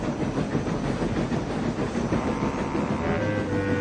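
A steam engine in an animated story chuffs and rumbles along steadily with rhythmic clatter and hissing, close and continuous, with no one speaking during it.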